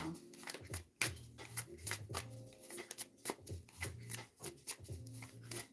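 A tarot deck is shuffled by hand in a rapid series of crisp riffles and slaps, close and fairly quiet, with bursts repeating about every second and soft breathing between them.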